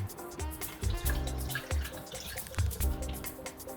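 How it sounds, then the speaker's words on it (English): Liquid carrying yeast sediment is poured from one vessel into a smaller container, giving close, irregular splashes and drips that come in a few stronger bursts over a steady trickle. "you pour it into a smaller container like this"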